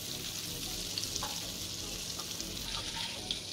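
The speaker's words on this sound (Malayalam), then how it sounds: "അപ്പം അതിന് നമ്മൾ ആദ്യം ബട്ടർ ഇട്ടോ ചൂടാക്കാം" Butter heats in a pan for a white sauce for chicken pasta, giving off a steady, fine sizzle that holds at an even level throughout.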